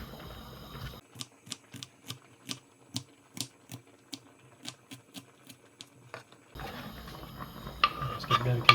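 A kitchen knife finely chops a shallot on a cutting board: about fifteen crisp, evenly spaced taps that stand out clearly, with background room noise before and after the chopping.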